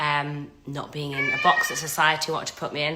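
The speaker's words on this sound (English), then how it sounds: "Sorry, that's the cat" A house cat meows repeatedly nearby, its cries tangled with someone talking steadily over them at close range indoors.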